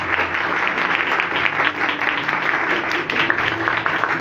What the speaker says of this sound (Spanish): Aplaude, grita, celebra, haz algo en esta mañana.